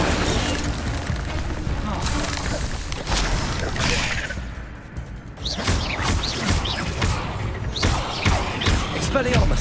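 Spell combat in Hogwarts Legacy, with an Incendio fire spell among the magic effects, produces repeated booming and crashing bursts with whooshing flares that stay loud throughout, mixed with a voice.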